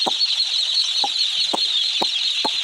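Chickens cluck in short, separate bursts, about five spaced roughly half a second apart, over a steady high-pitched background hiss.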